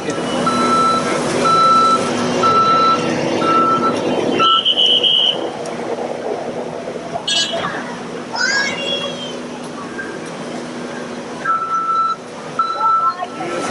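A truck backs up with its reversing alarm beeping in a steady, evenly spaced series, pausing midway and then resuming, at a landslide-damaged roadside in Shimla after heavy overnight rain; people talk nearby and traffic rumbles underneath.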